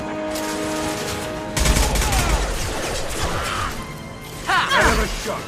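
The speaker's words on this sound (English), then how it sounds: "Firing an impact shot!" Gunfire in the sci-fi video game Mass Effect 2: loud, dense bursts of shots and impacts crashing over a continuous roaring background, with a fresh surge of fire near the end and no voices.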